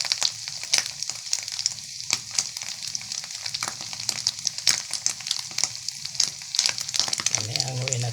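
Fine shrimp fritters (okoy) fry in hot oil, a loud, close, continuous sizzle with sharp crackling pops and occasional stirring, no speech.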